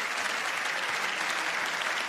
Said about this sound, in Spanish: Ahí está, amigos, un aplauso.